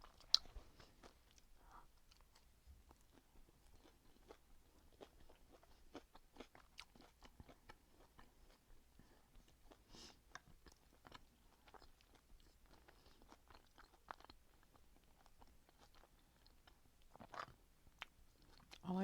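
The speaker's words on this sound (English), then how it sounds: "one of the best things in the world to eat is like cheese that's been on the pan and then it gets all crispy" Close, quiet chewing during a vegetarian meal of perogies, veggies and hummus, with soft irregular bites and crunches scattered throughout and no talking.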